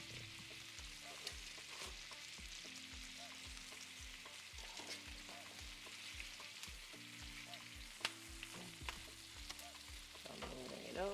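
Lamb chops sizzle steadily in a hot pan, with repeated scraping and clacking as they are shifted around, a dense continuous frying hiss throughout and no talk.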